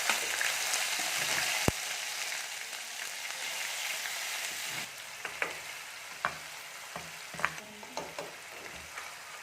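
Spices roasting in hot oil after cumin has crackled, for stuffed bitter gourd: a steady close sizzle and frying hiss with scattered stirring scrapes and small pops, no voices.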